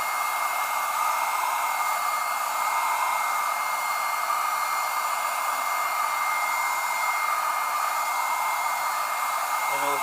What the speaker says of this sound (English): you will take a hair dryer, put it on its highest setting